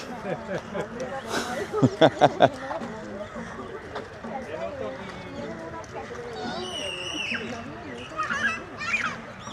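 Geese honk and call in short bursts around a temple area in Kandy, Sri Lanka, with loud honks early on and fainter calls later, while people talk and laugh throughout.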